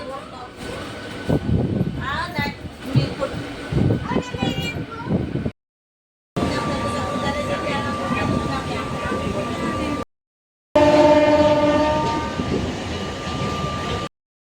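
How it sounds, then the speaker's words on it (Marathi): Steady rumble and rattle of a moving train from inside a carriage, continuous and close, with voices talking over it and a couple of brief gaps. "मित्रांनो आता आम्ही ट्रेनमध्ये बसलो आहे"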